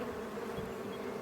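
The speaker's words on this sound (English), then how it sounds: "'Cause there's another wasp or whatever." A wasp buzzes near a beehive entrance, a steady close insect drone with a constant pitched hum and no voices over it.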